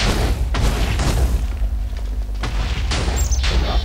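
Explosions go off in the video game Minecraft during a fight with a hydra boss, several deep booming blasts in quick succession, loud and close.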